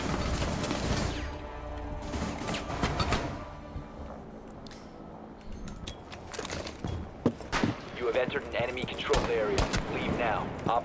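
Gunfire in Rainbow Six Siege during a Steel Wave match: repeated loud bursts and single shots crack across a busy game soundscape, scattered irregularly through the stretch with footsteps and mechanical clatter between them.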